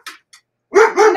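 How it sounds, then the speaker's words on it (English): A dog barks nearby: a couple of short faint sounds, then two loud, close barks in quick succession. "Here goes my dog."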